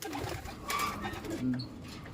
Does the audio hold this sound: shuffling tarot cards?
no